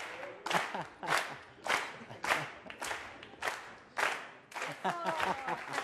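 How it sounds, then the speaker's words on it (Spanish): A crowd claps and cheers in loud rhythmic surges, each burst swelling and dropping roughly twice a second. "Aplausos. Bravo."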